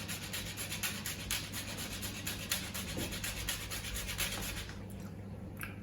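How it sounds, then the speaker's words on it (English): A whole nutmeg grated by hand, rasping close up in quick, steady back-and-forth scraping strokes that continue without pause and with no talking. "You don't need to grate the entire nut."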